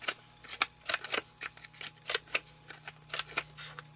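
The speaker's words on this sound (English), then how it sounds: "I want to round the corners." Crocodile corner rounder punch clipping the corners of cardstock, a series of sharp snipping clicks at an uneven pace, close and fairly quiet, with no talking.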